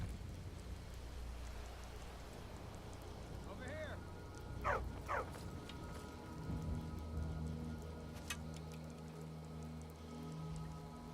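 A dog in a video game gives a few short barks over steady rain and low background rumble, with a faint rising tone just before them and a sharp click later.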